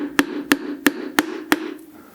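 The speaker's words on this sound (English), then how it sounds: "Get yourself an old bit of wood, it's an old hammer handle, and gently go down there" An old wooden hammer handle tapping a piston down inside a Fordson Super Dexta tractor engine, giving five evenly spaced, sharp knocks close up with a ringing metallic tone, then quiet.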